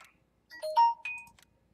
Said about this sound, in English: My phone's going crazy, ain't it?